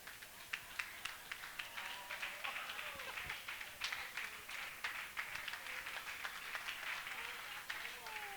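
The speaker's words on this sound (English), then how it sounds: "can we all stand up and clap for our MC?" Members of a Catholic church gathering in Lagos stand and clap for their MC: faint, scattered handclaps with sharp individual hits, heard from a distance over low background murmur.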